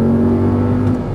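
An Audi R8 V10 accelerates hard on a track, its engine roaring loud and close with a steady, strong drone throughout the short burst.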